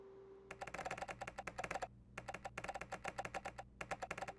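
Rapid text-typing clicks from the PlayStation Home game, in quick bursts of evenly spaced ticks with short pauses between lines, faint and without speech.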